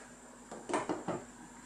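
A metal lid lifted off a cooking pot of simmering fish and potato stew, three quick close clinks and scrapes in a row, then quiet.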